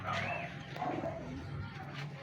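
Soft pigeon coos repeat a few times close by, low and throaty, over faint outdoor background noise.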